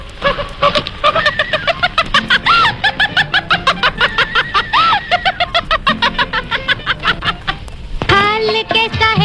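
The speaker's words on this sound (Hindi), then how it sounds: "क्या? मुर्गी? हाँ, पकड़ लाओ।" A caught chicken clucks in a rapid, steady run of sharp, repeated squawks for several seconds, loud and close. A brief louder flurry of clucking comes at the end.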